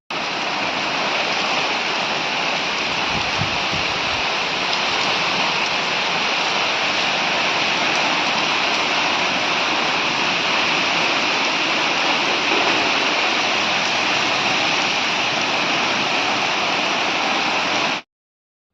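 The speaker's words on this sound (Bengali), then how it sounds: "তো দেখো বৃষ্টিটা হচ্ছে" Heavy rain pours down steadily, a loud dense roar of falling water that stays constant throughout with no voices.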